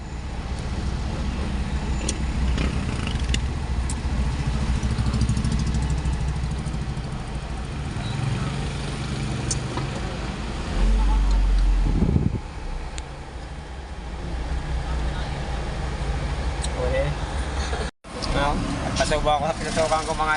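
Road traffic jam with idling car and motorcycle engines, a steady low rumble throughout, someone talking over it for much of the time and a brief sharp break near the end.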